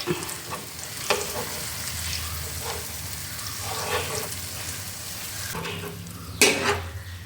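Fish frying in a pan with ground green peppercorn sizzles steadily, while a utensil scrapes and clinks against the pan as the pieces are flipped, with a sharper clatter near the end.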